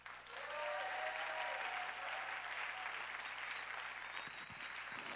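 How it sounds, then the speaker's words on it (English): A conference audience gives sustained, even applause for a group of chaperones, a dense wash of many hands clapping at steady volume over a low electrical hum, thinning slightly toward the end. "So a round of applause for all of them."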